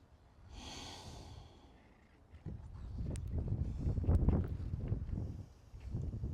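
Slow, deep yoga breathing, close and faint: a soft drawn-out inhale followed by longer, breathy exhales with no talking.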